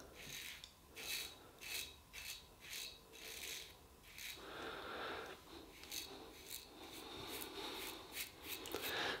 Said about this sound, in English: One good thing with this razor, this type of razor, you can hear where it's cutting.